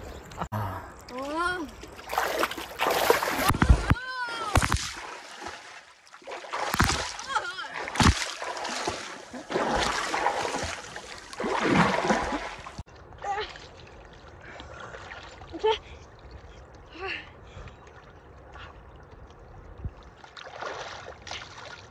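Water splashes and sloshes in bursts as people bathe in a river at a forest campsite, with voices talking and calling over much of it, then quieter trickling and lighter splashes toward the end.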